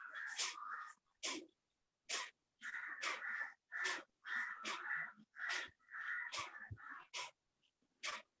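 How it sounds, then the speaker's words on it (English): Forceful, jerky nasal exhalations during a yoga breathing exercise, a run of sharp breath bursts, some in quick pairs and some held briefly, close and fairly quiet with silent gaps between them. "Inhale once, and then exhale out with a jerk."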